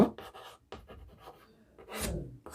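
Chalk or a pen writing a math formula during a class-10 geometry lesson on cuboids, quick scratchy strokes in short bursts with pauses, close and fairly loud, with no speech over them.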